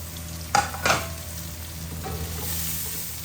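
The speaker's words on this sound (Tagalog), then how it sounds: "igisa na natin yung ating garlic. Yung ating onions." Garlic and onions are sautéed in hot oil, a steady sizzle with two sharp clattering stirs near the start, then the frying swells slightly. No voices.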